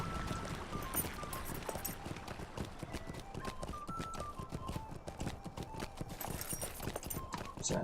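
A horse trots in Lord of the Rings Online, its hooves clip-clopping in a steady, close rhythm alongside a game music melody and ambient sound.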